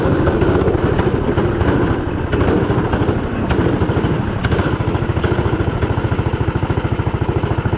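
A 420cc go-kart engine fitted with a big turbo idles close by, giving a loud, steady, fast-pulsing putter that runs evenly through the whole stretch with a slight rough clatter and no voices.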